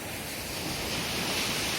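Ocean surf at Tybee Island beach washes in as a broad, steady hiss of breaking waves under gusty wind, with no voices.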